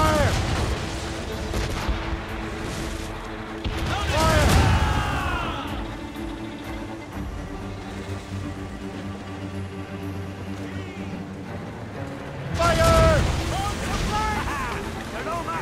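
Ship cannons boom in a naval battle in the game Assassin's Creed Rogue: two heavy, loud blasts several seconds apart over wind and sea noise, with shouting voices between them.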